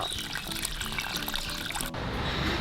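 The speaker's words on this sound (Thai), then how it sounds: "ในกรณีนะที่เราต้องการถ่ายน้ำก้นถังมันทิ้งเนาะแล้วก็เปิดวาล์วตรงนี้" Water gushes out of the opened bottom drain valve of a fish pond filter tank. The flow is steady and splashy, close by, and its tone changes abruptly near the end.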